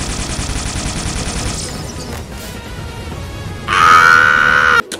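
Dense, continuous gunfire in the game Bloodborne, a rapid crackling barrage for a few seconds that gives way to a louder, sharper burst with a ringing tone near the end, then cuts off.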